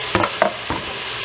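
Garlic hits hot pan with onions for green chile chicken enchiladas, a few close bursts of stirring and scraping over a soft, steady sizzle of frying, short and fairly quiet.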